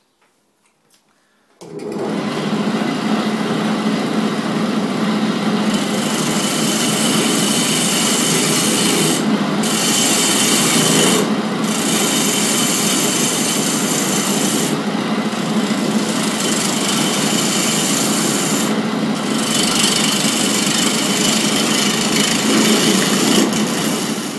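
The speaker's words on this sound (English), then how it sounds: "start shaping the uh, goblet itself, the uh, cup. Uh, I'm going to do that with a spindle gouge." Wood lathe spins a segmented wooden goblet while a spindle gouge shapes the cup. A sudden loud start gives way to a steady rasping, whirring cut, close up, with brief changes in the scrape and no talk.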